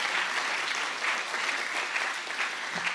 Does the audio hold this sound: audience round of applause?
yes